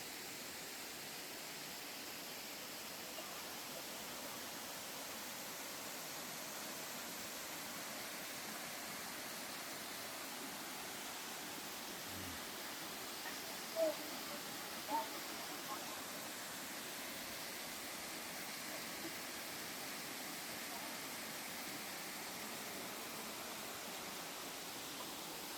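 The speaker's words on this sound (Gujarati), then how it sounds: "આપણે અત્યારે આવી ગયા છે એક વોટરફોલ જુઓ" A waterfall and flowing river give off a steady, even rush of water heard from a distance, faint and constant throughout, with a couple of tiny clicks near the middle.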